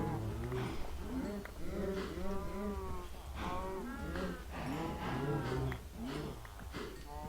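Cows in the Minecraft video game moo repeatedly in drawn-out, overlapping calls on a farm, several animals lowing one after another at close range with steady game background behind them.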